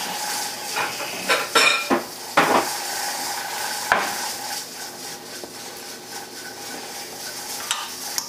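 Cooked spaetzle being tipped into a bowl, with a few sharp clatters and scraping knocks of utensil against pan and dish near the start, then quieter rustling handling.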